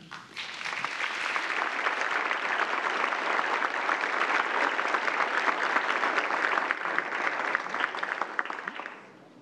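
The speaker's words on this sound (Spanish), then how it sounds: "Un aplauso para él." An audience at a press talk on persecution of journalism in Nicaragua applauds the speaker, a dense, sustained round of clapping that swells, holds steady for several seconds, then tapers off.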